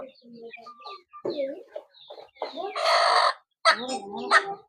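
Farm chickens, three hens and a large rooster, cluck and squawk up close, with a short, loud rooster call rising in the middle between scattered bird sounds.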